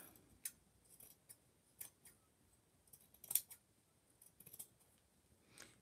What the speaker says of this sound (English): And then I trim off the excess.